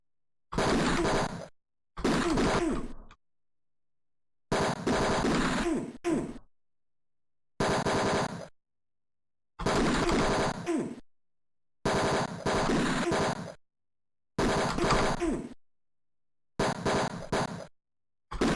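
Gunfire bursts in the Tex Murphy: Mean Streets video game, around nine loud rattling volleys of one to two seconds each separated by short silences, with no talk.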